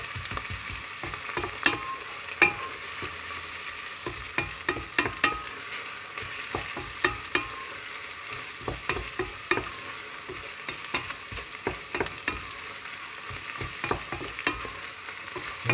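Chopped onion browning in a pan for bolognese sauce, a steady sizzle broken by repeated scraping stirs and taps of the spoon against the pan.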